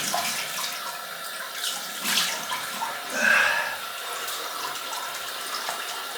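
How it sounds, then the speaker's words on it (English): Cold tap water runs into a sink for a rinse during a wet shave, a steady faint splashing stream with brief louder gushes, alone without talk. "Cold water rinse."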